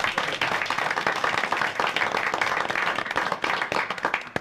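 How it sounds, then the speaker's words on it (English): A room of attendees at a county board of supervisors meeting breaks into applause, a steady, moderately loud patter of many hands clapping throughout with no talk over it. "Round of applause."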